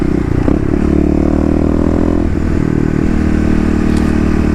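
Kawasaki KLX351 dirt bike engine under load while riding, a loud, close, continuous drone whose pitch eases down and then holds steady, with no talk.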